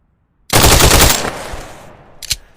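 Loud burst of rapid automatic gunfire from a suppressed weapon in a tactical shooter video game, a dense rattling stream lasting about a second that tapers off, then one more sharp shot.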